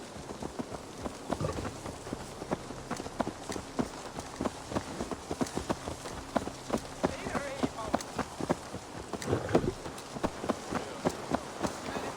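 A horse's hooves clip-clopping in Assassin's Creed Valhalla, a steady patter of hoofbeats running continuously under ambient game sound, with no voices in the stretch.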